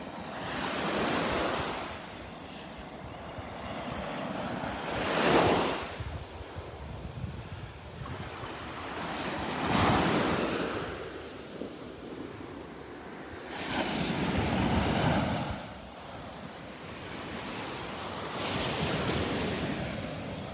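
Small waves breaking over a sandbar off a quiet beach in North Naples, Florida, with steady wind noise; several broad surges of surf rise and fade roughly every four to five seconds, fairly loud and close.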